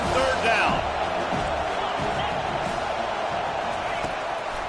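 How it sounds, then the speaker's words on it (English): Home crowd at a football game, a sustained broad roar as the defense faces third down, loud and steady throughout with a brief swell near the start and a commentator's voice over it. "Here comes this home crowd as the defense tries to get off the field on third down."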